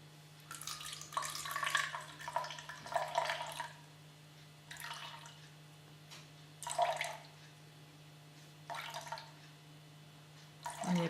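Water is poured in short bursts into a container while mixing a DIY purifying, hydrating face mask, several faint splashing pours separated by pauses over a low steady hum.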